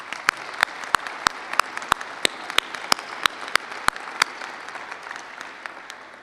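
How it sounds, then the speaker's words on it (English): Scattered clapping from a small audience at a research workshop, sharp individual claps in an irregular steady rhythm, close and clear, thinning out toward the end with no talk. "Manish really deserves a round of applause from everybody"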